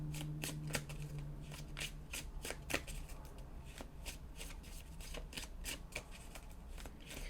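A deck of tarot cards is shuffled close up in a steady stream of rapid riffling flutters and soft slaps that continues throughout.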